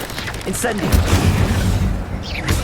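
An Incendio fire spell cast in Hogwarts Legacy combat, a loud whooshing, booming burst of flame over dense battle noise, with a voice shouting during the cast.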